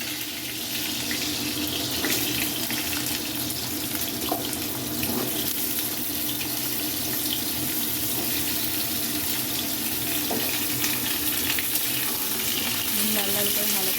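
Papaya and potato pieces fry in hot oil with a dense, unbroken hiss, loud and near, plus a few small crackles and clinks along the way, and nobody talks.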